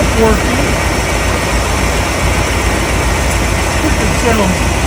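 A 1987 Chevy K5 Blazer engine, recently revived after 22 years of sitting, idles steadily and close up, a continuous, even running sound for the whole stretch without pauses.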